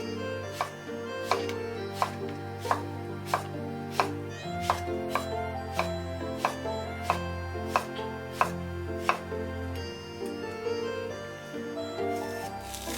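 A knife cuts an eggplant diagonally into thin slices on a cutting board, giving a steady run of crisp, evenly spaced chops close by, with no talking.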